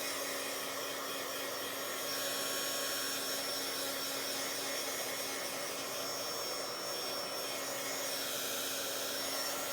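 A heat dryer blows steadily on a mixed media collage page, producing a continuous close whooshing hum with a faint whine that holds at an even level throughout, with no talking.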